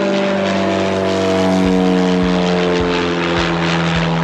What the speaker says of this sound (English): There's like so much plane traffic here, it's crazy